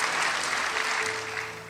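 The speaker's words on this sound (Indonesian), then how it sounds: "Saudara, tepuk tangan buat Tuhan." A church congregation applauding during a sermon, a dense, steady burst of clapping from a large crowd that holds for the whole moment and eases slightly toward the end.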